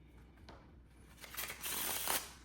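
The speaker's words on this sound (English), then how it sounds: "he's basically gonna shuffle these two packs together, like so" Two packs of playing cards riffle-shuffled together close up, a soft flutter that builds into a dense, crisp burst of rapid flicking before trailing off.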